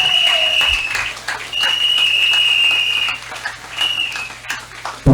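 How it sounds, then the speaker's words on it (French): A church congregation claps in a loud, dense wash of applause, with sustained whistle-like tones riding over it and a brief dip before the clapping swells again. "People of God, continue to clap for the God of Father Prophet Healing"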